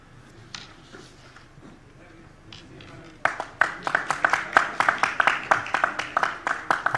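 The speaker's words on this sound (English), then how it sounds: "kindly give a big round of applause" Audience at a dialogue forum session breaking into a round of applause, starting after a few scattered claps and building into steady, moderately loud clapping from a modest crowd that carries to the end.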